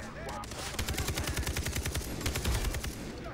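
Gunfire in Far Cry 3 co-op on a beach, with artillery arriving: a fast, steady rattle of machine-gun shots, loud and close, running almost unbroken with a few heavier thumps underneath.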